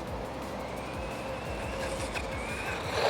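A cheap brushless RC truck drives hard at high throttle, its electric motor whining and rising in pitch over a rumbling, bumpy ground noise at a moderate distance.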